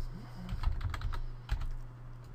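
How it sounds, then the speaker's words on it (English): Quick close keystrokes on a computer keyboard typing a short phrase, a brief flurry of clicks and taps that then trails off, with no voices. "I'm going to type in Windows 8."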